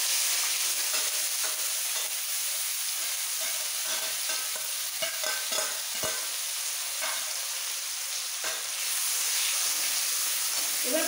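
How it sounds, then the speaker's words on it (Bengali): Finely chopped onion frying in hot oil with kalo jeera (nigella seeds), a steady bright sizzle throughout, broken by a few stirring scrapes and clicks, close and fairly loud. "এবার পেঁয়াজটাকে একটু ব্রাউন করে ভেজে নিতে হবে।"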